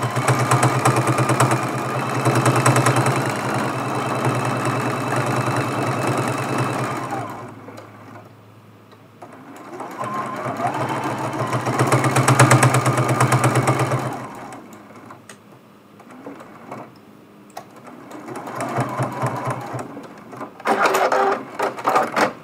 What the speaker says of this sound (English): there is our running stitch